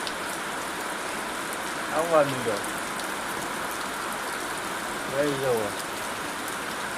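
Rain falls steadily and heavily on farmland, a constant wash of noise that holds through the whole stretch while people shelter under trees; two short bursts of voices cut in briefly above the downpour.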